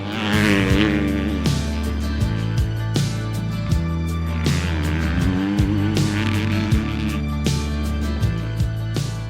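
A 2022 Husqvarna FC 250 four-stroke dirt bike ridden at Glen Helen, its engine revving and shifting loudly and continuously, rising and falling in pitch with the throttle.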